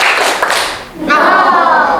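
A group claps in rhythm loudly in a short burst during a classroom ice-breaker, followed by voices shouting together close by in Indonesian.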